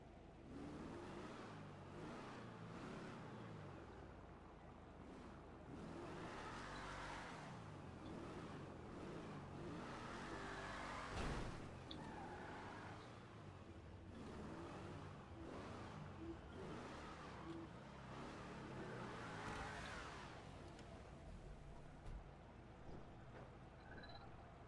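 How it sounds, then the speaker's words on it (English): Car fitted with Corvette exhaust in GTA V, engine droning and revving steadily for a long stretch at low level, with rising and falling pulls and a brief louder burst midway, no talk. "It's got Corvette exhaust."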